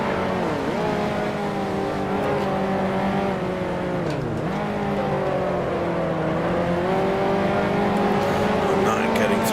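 A race car engine in a racing video game drones loudly and continuously, its pitch rising and dipping as the car shifts and brakes through corners, with a player's voice talking over it.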